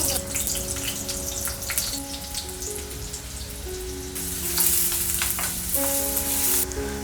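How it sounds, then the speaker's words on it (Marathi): Garlic and onion sizzle steadily in hot oil for a tempering, a dense, continuous frying hiss that swells louder midway, with a sustained musical tone running underneath. "तेल घालूया इकडे लसूण कांदा फोडणी करायला"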